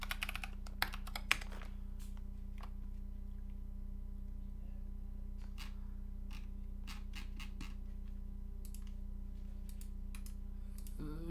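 Keycaps being pulled off a keyboard one by one, Hammer CRP PBT plastic caps, giving sparse dry clicks and light plastic snaps over a steady low hum, close and fairly quiet.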